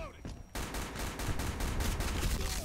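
Rapid gunfire bursts in the shooter game Black Squad start abruptly after a quieter moment, then run as a dense, loud string of closely spaced shots.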